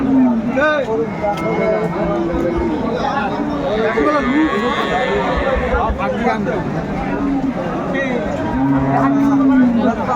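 Cows moo loudly in long, low drawn-out calls amid a busy crowd of people talking at a bustling livestock market selling cows with calves.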